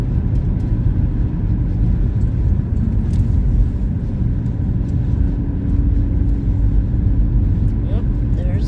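A school bus drives past on a country road near New Castle, Indiana, its broad engine and road rumble steady and fairly loud throughout, with a brief swell suggesting the pass under continuous in-car drone.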